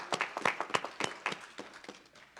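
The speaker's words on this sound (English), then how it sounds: "Just a round of applause for Sue." A small gathering at a world peace day event breaks into a round of applause, steady close hand-clapping lasting a couple of seconds and fading toward the end.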